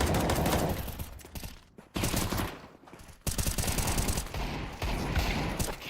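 Bursts of rapid gunfire in Counter-Strike 2, shooting through a wall during a CCT Europe match, loud and close, in several rapid volleys separated by short pauses.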